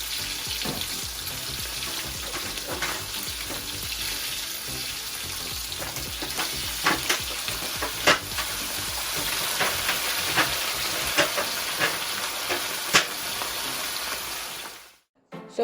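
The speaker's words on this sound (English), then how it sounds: "So while the fish is being fried" Fish fries in a pan with a steady, dense sizzle and occasional pops and crackles over about fifteen seconds, recorded close, with no talking before it cuts off.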